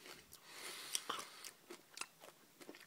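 Close, crisp crunching as someone chews Cadbury White Mini Eggs, the hard candy shell cracking in a quick irregular series of bites, with no talking.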